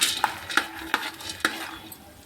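Cumin and mustard seeds are stirred in a pan with a spoon, producing about five evenly spaced scraping knocks over a soft background hiss, close and moderately loud.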